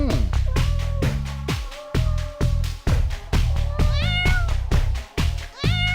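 A cat meows repeatedly in short, loud, close cries, about a dozen in quick succession over six seconds, with some rising, whiny inflections.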